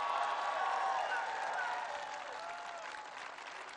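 A town hall audience applauds, a dense wash of clapping from a large crowd that stays steady and then tapers slightly, heard fairly faint and at a distance.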